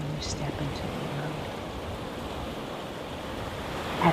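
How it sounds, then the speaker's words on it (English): Ocean waves wash in a steady, broad rush of surf with a breezy background, fairly soft and continuous, during a calm Reiki healing meditation, with no one speaking over it. "I would like for you to just listen to the waves and sit with yourself for a second"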